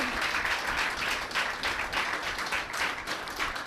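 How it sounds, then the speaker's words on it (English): Steady applause from a crowd at an award ceremony in the Virgin Islands, many hands clapping continuously at a close, even level with no voices. "Give yourselves a round of applause."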